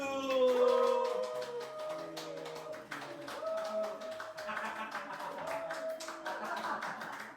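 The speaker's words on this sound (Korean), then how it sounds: "박수." A church congregation claps steadily through a Sunday service, a dense patter of hands over sung or spoken voices that continues throughout.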